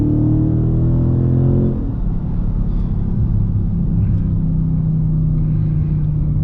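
A Dodge Charger 392 Scat at full throttle gives a loud, steady engine roar with a deep rumble, and its pitch shifts once early on before it holds a strong, even pull.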